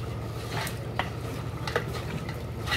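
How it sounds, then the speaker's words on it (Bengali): Beef coated in spices is stirred in a pot over a clay stove for a potato beef curry. A steady low sizzle runs throughout, with scraping strokes and occasional utensil clinks against the pot. Nobody speaks. "এখন নেড়ে দিচ্ছে ভালোভাবে"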